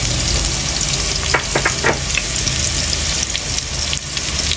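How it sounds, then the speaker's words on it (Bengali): Onion, garlic and green chili sizzle in a hot pan, a dense continuous hiss close by with a few sharp pops and spatula scrapes near the middle, no voices. "পেঁয়াজ ভাজি হইতে থাকুক নাকি?"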